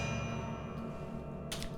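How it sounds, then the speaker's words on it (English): A harp strung with guitar strings rings with sustained, metallic overtones and a dense low drone, and a brighter shimmering stroke flares near the end. The sound stays steady and close with no voices. "It's a harp strung with guitar strings"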